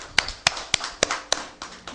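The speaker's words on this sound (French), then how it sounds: "Applaudissez pour la jeunesse" A handful of sharp, separate handclaps ring out at a youth-focused press conference, about six evenly spaced slaps over two seconds, thin and sparse rather than a full crowd.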